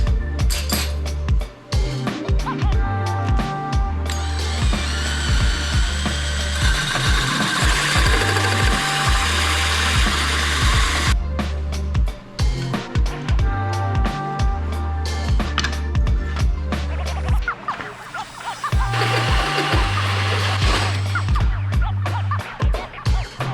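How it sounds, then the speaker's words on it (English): A hole saw in a drill cuts arcs into wood for table supports, loud grinding and whirring in long bursts that stop and restart, with clattering between cuts. "I'm going to do all of that with hole saws."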